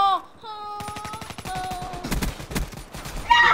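Machine gun fire in a Call of Duty: Black Ops 3 multiplayer match, rapid bursts of rattling shots over electronic tones and game effects, ending in a louder burst.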